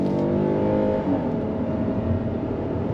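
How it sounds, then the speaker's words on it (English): A 2023 Kia Telluride front-wheel-drive SUV pulls away hard from a dead stop in sport mode, its engine giving a loud, steady, rising drone heard from inside the cabin, with no talk. "I'm gonna go back in sport and we're gonna go on throttle from a dead stop"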